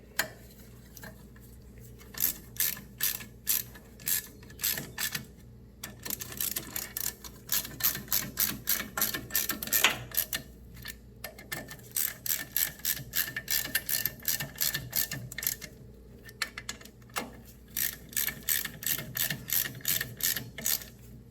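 A ratchet tightens the four bolts while pickup ball joints are replaced on a 1997 Nissan 2WD pickup. It sounds as close, rapid clicking in repeated bursts with short pauses between strokes, and no one speaks.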